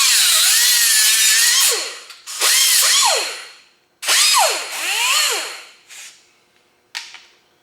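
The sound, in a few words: air-powered cutting wheel cutting a window track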